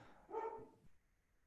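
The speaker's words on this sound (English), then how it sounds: "Apologize for the dogs." A dog gives one short, muffled bark in the background of a quiet room, then faint trailing noise.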